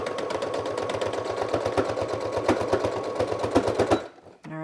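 A sewing machine stitches over a fabric seam with a fast, steady mechanical chatter lasting about four seconds, then stops abruptly and is followed by a brief faint noise.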